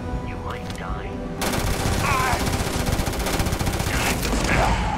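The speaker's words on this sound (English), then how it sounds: "I need the assault weapon for this. I think this is fully automatic." Fully automatic assault weapon firing in the video game Starfield: a dense, rapid burst of gunfire starts after a quieter opening and runs steadily, loud and close, with faint game sounds around it.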